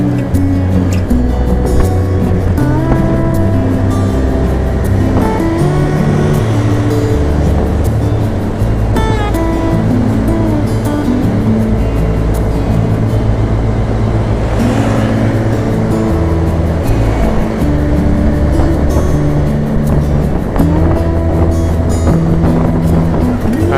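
A Binter Duta bus from Bukit Tinggi rolls past on a road in Kinali, its engine and exhaust droning loud and steady for over twenty seconds with strong low rumble throughout and no talk.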